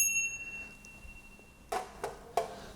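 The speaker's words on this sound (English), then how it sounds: "We offer the bell, because the bell's pleasant for the ears." A hand bell offered in Hindu worship at the ISKCON temple in Newcastle rings with a fading metallic tone, then gives three sharp, quieter clinks spaced about a third of a second apart.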